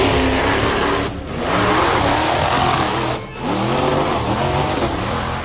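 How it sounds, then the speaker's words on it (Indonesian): A monster truck engine revving hard during an arena stunt show, loud sustained roaring with two brief dips where the revs drop before surging again. "sebuah truk monster yang sedang beratraksi tiba-tiba hilang kendali dan menabrak kerumunan penonton"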